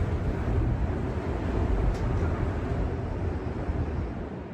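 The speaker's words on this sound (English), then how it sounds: "Man, you hear the wind?" Strong wind buffeting a mountain fire tower platform, a loud, continuous low rumbling roar across the microphone, steady and alone with no talk.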